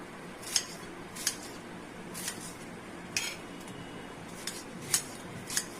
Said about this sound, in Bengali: পেঁয়াজটা কেটে নেবো ছোট্ট ছোট্ট করে পেঁয়াজগুলো রিং রিং করে কেটে নেবো